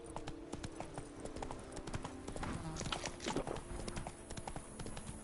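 Horse hooves galloping in the video game The Witcher, a quick rhythmic clip-clop of hoofbeats at moderate volume over a steady game soundscape.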